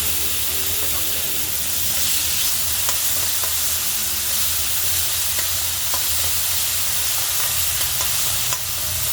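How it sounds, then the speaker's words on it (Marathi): Tomatoes fried and stirred in a hot pan with chillies while making Gujarati khatti meethi dal, giving a steady loud sizzle and hiss with occasional soft scrapes of the spoon, close by and continuous throughout. "आता आपण टमॅटो टाकून घेऊ"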